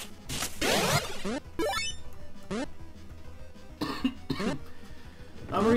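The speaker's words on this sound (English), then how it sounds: "I'm really sorry for all the coughing." A person coughs repeatedly in several harsh bursts, close and loud, with throat-clearing sounds between fits over an electronic game soundtrack.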